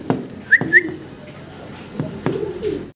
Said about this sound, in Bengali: রেড কালারের এক জোড়া লাহোরি কবুতর